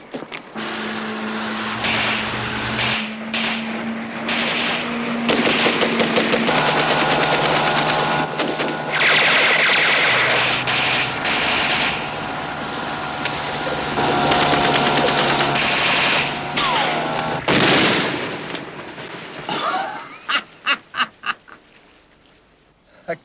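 A grenade launcher fires rapid bursts of heavy gunfire that crack out in clusters over a droning mechanical hum, ending in a few loud, separate blasts.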